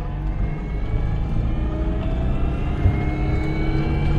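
A Citroen 2CV's small engine idles and runs steadily close by, a continuous buzzing drone with a slight rise and fall and no speech over it.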